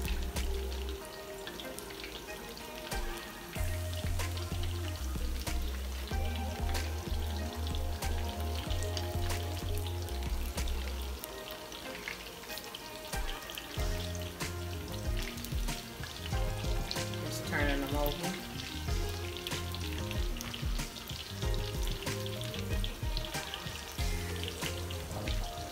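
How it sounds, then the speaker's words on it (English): Hot water cornbread patties fry in hot grease, giving a steady close sizzle with scattered crackles and pops that continues for a long stretch, with faint background clatter. "here I have them in my hot grease. They are cooking"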